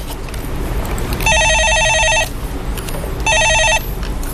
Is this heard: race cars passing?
no